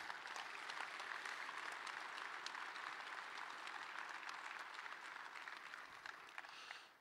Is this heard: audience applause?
yes